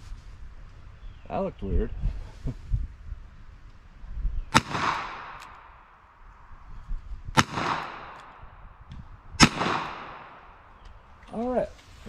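Three sharp gunshots ring out one at a time several seconds apart outdoors, bullets fired at water, each crack trailing a short echo, with someone speaking briefly between them.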